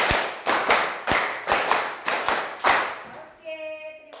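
Classroom students clap together in a set pattern, loud sharp group claps in a rhythmic series, then a voice speaks at the end.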